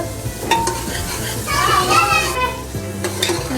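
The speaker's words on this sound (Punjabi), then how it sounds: "ਹੁਣ ਅਸੀਂ ਕਰਦੇ ਆ ਜੀ ਇਹਨੂੰ ਮਿਕਸ" Aloo matar sabzi with green chillies and onions frying in a pan, stirred with a utensil that scrapes and clinks close by over a low sizzle.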